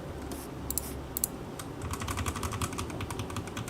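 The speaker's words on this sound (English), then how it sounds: "Sorry if my keyboard is too loud." Rapid clattering keystrokes on a loud computer keyboard, close and steady, with a few isolated clacks first and then a dense run of typing and no talk.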